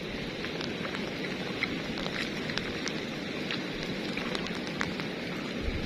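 Steady rain falls in the countryside during lift-net fishing, a dense even patter on surfaces with scattered drops, continuous and close, with no talk.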